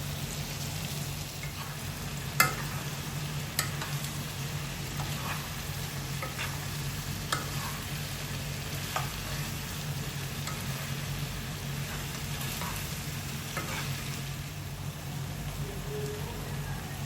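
Pork roast in Angamaly style sizzles and fries in a pan, a steady soft crackle broken by a few scraping stirs of the spoon, fairly quiet and close with no talking.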